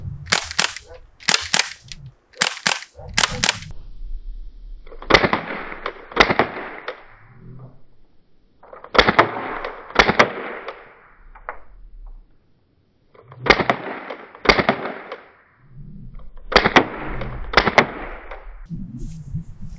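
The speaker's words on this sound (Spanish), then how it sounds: "Vamos a hacer nuevamente los disparos acá" Sharp snapping shots from a Jericho CO2 air pistol fire in quick bursts, several in rapid succession, each followed by a brief hissy rush, with pauses between volleys.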